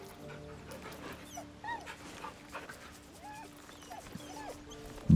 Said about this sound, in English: I just have to pet the dog once more